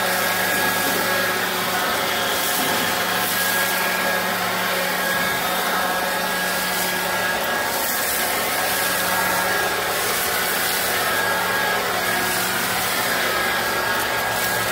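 A Scotts 20V cordless leaf blower runs at a raised speed setting outdoors among fallen leaves, a loud, steady airy whir that holds unbroken for about fifteen seconds.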